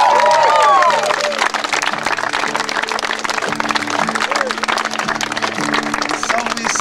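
Crowd applause and cheering fill the space steadily at a live Christmas music performance, with a voice speaking over the start and a faint musical hum beneath.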